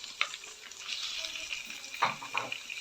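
Onion and chicken breast fry in a pan with a quiet, soft sizzle as a utensil stirs them, giving a few scraping bursts, heard close but faint with no voices.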